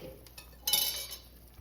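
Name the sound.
lid taken off pot of cooking soup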